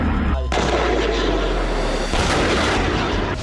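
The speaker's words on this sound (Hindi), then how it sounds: "खेरसोन में जबरदस्त आर्टिलरी प्रहार किया गया" Heavy artillery fire in Kherson during the Russia-Ukraine war, with a sharp blast near the start followed by sustained rumbling booms and a second heavy impact a bit later, loud and dense with no speech.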